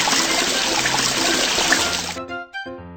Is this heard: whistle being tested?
no